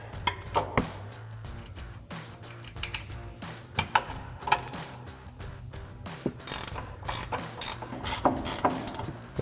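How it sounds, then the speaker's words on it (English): A 15 mm ratcheting wrench clicks steadily while removing upper strut mounting nuts on a 4WD F-150 during a suspension lift install, with rapid close pawl ticking in bursts and occasional metallic clunks, no voices. "we're going to grab our 15 millimeter ratcheting wrench to do that"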